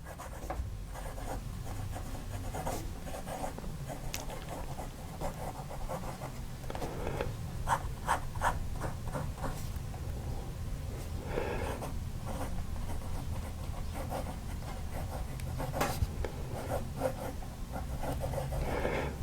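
A handmade yellow Duofold-style wooden fountain pen scratches steadily across paper, with soft nib strokes and rubbing in an irregular rhythm, close and quiet and with no talking.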